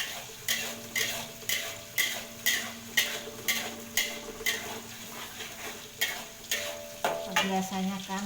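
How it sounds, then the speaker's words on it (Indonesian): Shallots sizzling in hot oil while being stir-fried in a pan for fish pindang, with a steady rhythmic scrape of a spatula against the pan about twice a second over the soft frying hiss. "bawang merah, kita tumis"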